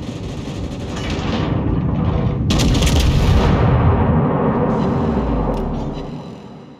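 Anti-aircraft guns blazing aboard the battleship USS Congress in World of Warships: a dense, continuous rumble of gunfire and booms that swells loud and steady, then eases off toward the end.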